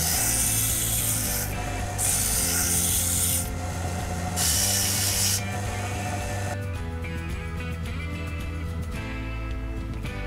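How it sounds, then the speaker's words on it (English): Metal tweezers are smoothed with 80 grit sandpaper, giving close rasping rubs in several bursts, with quieter scratchy strokes toward the end. "Smoothing out here with 80 grit."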